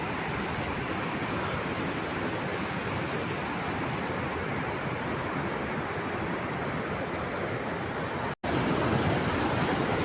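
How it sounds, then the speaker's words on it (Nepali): A fast mountain stream on the road to Dhorpatan, Nepal, roars steadily and loudly, a constant broadband flow, interrupted only by a brief cut near the end. "कस्तो राम्रो खोला छ कि यहाँ"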